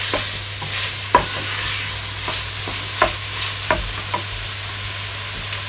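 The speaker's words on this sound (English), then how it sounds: "Give that a stir." Pumpkin rice is stirred in a frying pan: scraping spoon strokes come at an uneven pace over a steady background sizzle, close and fairly loud, with no one talking.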